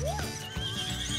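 A robotic toy baby doll produces an imitation horse neigh, a rising and falling whinny followed by clip-clop hoof sounds, close and clear with no talking over it.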